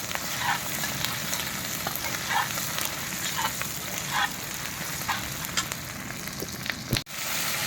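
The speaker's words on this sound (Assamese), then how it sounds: "এই পিঁয়াজ জলকীয়া আদা ৰচুন দিলোঁ তেলত।" Onion, chili, ginger and garlic sizzle steadily in hot oil, a dense close crackle with occasional stirring clinks and a sharp clatter near the end.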